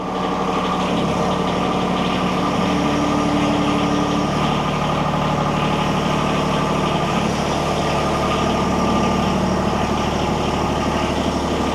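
John Deere tractor engine running steadily at a constant drone, fitted with new Walmart tires and rims, driving at a close distance without any talk.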